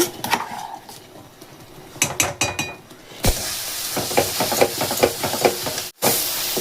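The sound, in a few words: jaggery boiling in a pan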